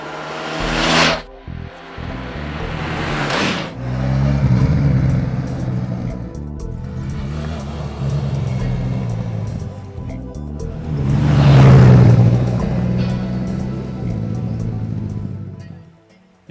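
A Honda Crosstourer VFR1200X with its 1237cc liquid-cooled V4 engine revs in several loud, close bursts, rising and falling, separated by a steadier running drone.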